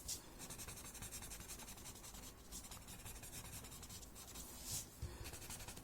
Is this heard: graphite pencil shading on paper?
yes